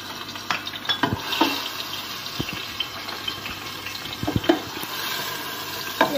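Garlic frying in a small amount of oil for white beans with vermicelli rice, a soft continuous sizzle with scattered spatters and stirring clicks, close and steady throughout.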